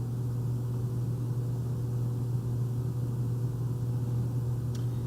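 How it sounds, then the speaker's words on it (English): A home air conditioner hums steadily in the background, a low, constant electrical drone with a faint broadband hiss, unchanging and without voices. "my air conditioner for my house."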